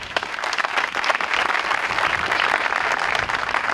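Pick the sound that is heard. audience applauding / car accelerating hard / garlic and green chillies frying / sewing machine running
audience applauding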